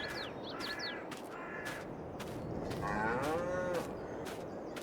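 Cows mooing in a cow pasture on a farm in Farming Simulator 22, several overlapping drawn-out calls near and far, with crow-like caws early on, over a steady outdoor background; no talking.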